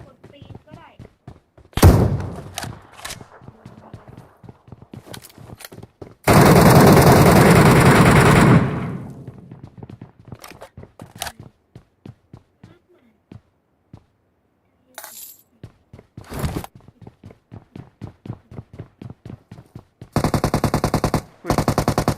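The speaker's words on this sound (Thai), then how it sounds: "มันยิงเราวะนึกว่ามันยิงคนอื่น" Gunfire in the PUBG Mobile Metro Royale game rings out as rapid automatic bursts and single sharp shots, loud and close, spread in clusters across the stretch with pauses between, while players talk over it.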